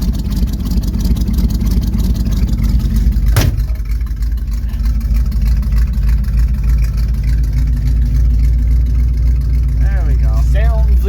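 A 1971 Chevy C10 pickup's engine runs loud and close at a steady, rumbling idle just after a cold start, with a sharp click early on and faint voices near the end.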